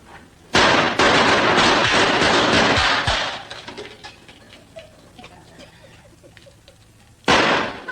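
A burst of loud gunshots bangs out in a comedy Western gunfight sketch, a rapid dense volley lasting a couple of seconds, then scattered quieter pops and rustle, and a final loud shot.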